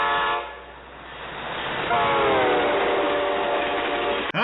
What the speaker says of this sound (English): How do I know when that train gets the closest to the window? It's not just that the sound gets louder volume, it's that it changes pitch